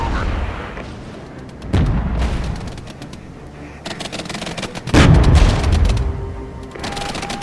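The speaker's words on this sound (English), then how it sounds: "I was going to drop some heavy artillery on them, get them out of the way nice and quick" Heavy artillery pounds a battlefield in the MicroProse Regiments war strategy game, with several loud, sharp blasts at irregular intervals, each followed by a rolling rumble, over a steady background of combat noise.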